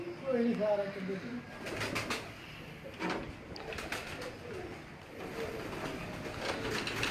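Rooftop pigeons in Madina Town, Faisalabad, coo repeatedly at close range. A few sharp flutters and knocks break in, and voices are faintly audible underneath.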